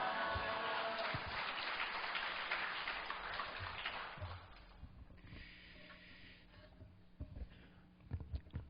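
Applause from a church revival congregation welcoming the preacher to the pulpit, a dense wash of clapping that starts loud and then fades and thins out into scattered claps.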